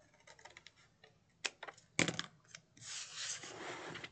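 Scissors snipping a pink paper flower shape for a craft organizer, a quiet run of small clicks and snips building into a denser, brighter rustle of paper toward the end.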